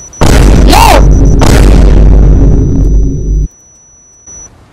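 A bomb detonates loudly at the end of a video game round, a sharp close blast with a brief rising tone, then a sustained low rumble that cuts off abruptly, with no talk.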